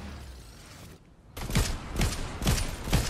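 Gunfire from behind in the video game Fortnite: after a quiet lull, a rapid series of sharp shots cracks out at a steady rhythm, fairly loud and unaccompanied by speech.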